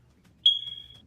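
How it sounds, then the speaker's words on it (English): A single smoke detector beep, one clear high tone of about half a second rising out of near silence, moderately loud and close. "I want the fire alarm beep beep."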